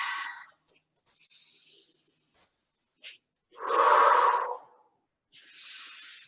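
People breathe during a guided movement exercise: several separate, close, hissing inhales and exhales with gaps between them, one deeper and louder breath in the middle.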